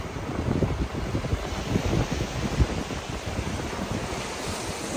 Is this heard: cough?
no